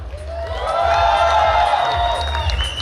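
A podcast studio crowd counted in to cheer and clap bursts into loud whoops and shouts. The cheering swells and holds for a few seconds, with only faint clapping beneath.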